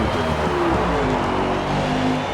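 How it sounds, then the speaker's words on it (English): A race car engine in a Nürburgring sim race, number 24, drones and revs continuously at high RPM, loud and dense with layered engine tones and no break. "you could hear the RPMs on that 24 car"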